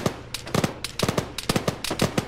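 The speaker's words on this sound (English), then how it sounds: "Two taking fire, southwest." Gunfire in the military shooter ArmA during a ShackTac squad operation: short, sharp bursts of rapid automatic shots crack out in quick volleys, loud and close, with brief gaps between them and no talking.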